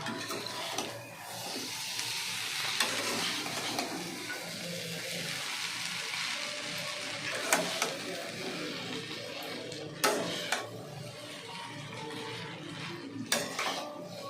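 Sweet-spicy pasta with tomato sauce being mixed in a pan, with soft clinks and scrapes of a utensil against the metal over a low background hiss, plus a few sharper knocks.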